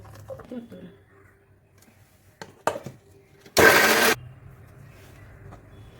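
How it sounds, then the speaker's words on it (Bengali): A kitchen mixer grinder whirs in a short, loud burst lasting about half a second while blending onion into a paste, preceded by quiet clatter and faint handling sounds of loading the jar. "এবার এই মিক্সি জারটার মধ্যেই আমি দিয়ে দিচ্ছি পেঁয়াজ। পেঁয়াজ দিয়ে এটাকেও পেস্ট করে নেব।"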